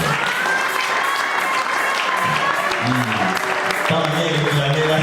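Church congregation applauding at a French-speaking service, loud continuous clapping from a close crowd, with a voice speaking over it and music rising near the end.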